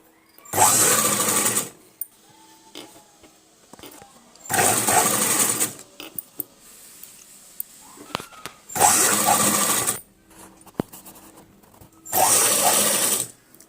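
A sewing machine stitches a blouse neck piece in four loud bursts of rapid whirring, each lasting about a second, separated by quiet pauses with small handling clicks.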